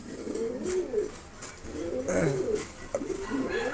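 A black stretcher pigeon coos in repeated low, rolling phrases, close and fairly clear, with faint background noise between calls.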